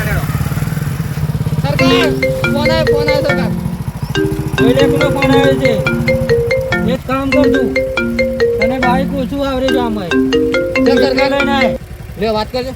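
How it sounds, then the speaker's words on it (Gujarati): A mobile phone ringtone plays a loud, repeating melodic pattern of bright electronic notes over a continuous low engine-like rumble in a rural comedy scene. "ફોન આવે ફોન આવે"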